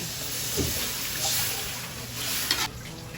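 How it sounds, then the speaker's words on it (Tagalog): Water pours into a hot pan of pancit with soy sauce, a steady, hissing sizzle, a few soft clinks underneath. "Lalagyan ko na din po ng tubig."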